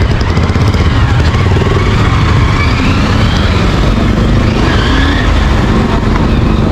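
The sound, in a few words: Honda motorcycle engine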